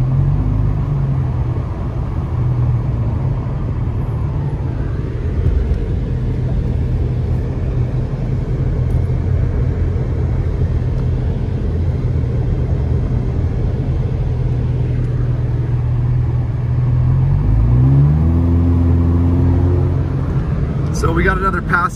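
Car climbing a mountain highway toward Big Bear on Highway 330 in heavy Sunday traffic, a steady low engine and road rumble running throughout with a rising shift near the end, a voice talking over it.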